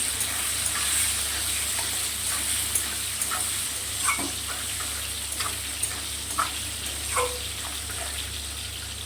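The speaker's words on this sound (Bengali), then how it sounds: "ভেন্ডিটা ভেজে নিই লাল লাল করে।" Okra with a little salt and turmeric frying in hot oil in a pan, a steady, moderate crackling sizzle with occasional soft stirring clicks over a low background hum.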